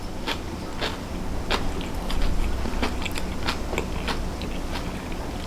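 Someone bites into and chews a crispy, hot gaoji dumpling up close, with a series of sharp crunches followed by softer rhythmic chewing and no talk.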